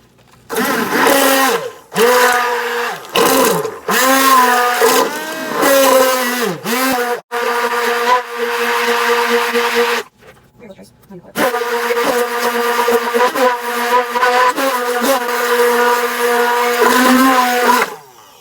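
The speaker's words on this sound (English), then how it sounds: "you want to get your emulsifying blender" Loud whirring of an immersion blender running in several bursts through goat's milk soap batter, pitch wavering as it works through the thick liquid, with short pauses between runs.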